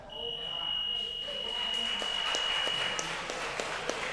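A long steady electronic buzzer ending a period of an ADCC grappling match, sounding for about three seconds over crowd noise and applause in an arena, followed by scattered claps.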